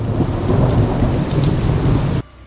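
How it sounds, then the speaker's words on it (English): A thunderstorm near a beach town in Italy brings a steady, heavy wash of rain and deep rumbling thunder that fills the air, then cuts off abruptly near the end; no voices are heard. "There's a bit of a storm."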